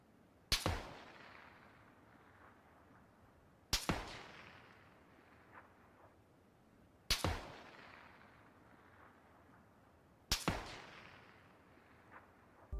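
Four sharp gunshots in a video game, spaced about three seconds apart, each loud crack followed by a decaying echo tail, with no talking.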